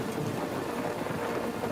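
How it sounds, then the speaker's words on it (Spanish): Heavy rain pours in a dense, steady hiss with a low rumble beneath it, a thunderstorm during a night journey near Erfurt, continuous and with no voices. "de pronto se vio atrapado en una espectacular tormenta eléctrica"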